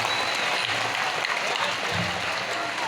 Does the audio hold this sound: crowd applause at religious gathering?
yes